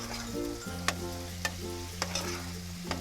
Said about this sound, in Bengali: এখানে দিলাম আমি আদা রসুনের পেস্ট। এটা আমি ভালো করে কষিয়ে নেব